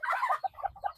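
Bantam chickens, one with a cold, cluck in a quick series of close, moderately loud calls, busy at first and then breaking into separate short bursts.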